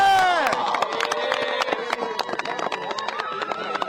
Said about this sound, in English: can I get one more huge roar from the crowd,